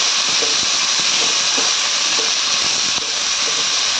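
Cluster beans sauté in hot oil in a pan, a loud continuous close sizzle and hiss with faint occasional stirring clicks.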